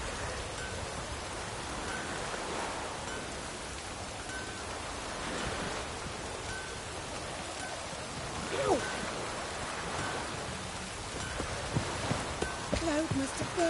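Steady rain falls in the game Witcher 3, a dense, even hiss with a few sharper spatters near the end. It carries on throughout without clear speech.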